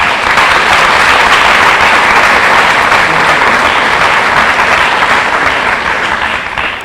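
An audience at a scholarship awards ceremony applauds in a sustained, loud, dense wash of clapping that holds steady and tapers slightly at the end.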